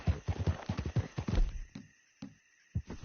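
Horse hooves clip-clop in Red Dead Redemption 2, a quick run of rhythmic thudding steps that thin out and pause before one last hit, all at close range.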